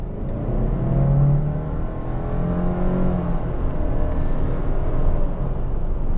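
A new Subaru Levorg STI with a 1.8-litre turbo flat-four, 177 horsepower, accelerating hard: a steady rising engine drone heard from inside the car, with no talking.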